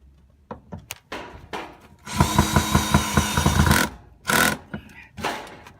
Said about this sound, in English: I did change my drill bit in order to countersink the screws in like I'm doing.